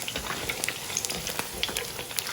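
Chicken pieces for orange chicken frying in oil, a soft close sizzle with scattered pops and crackles, no talk.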